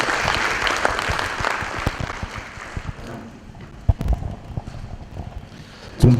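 Audience at a horticulture event in Tanzania clapping, a dense burst of applause that thins into scattered claps and fades, with a louder knock at the end.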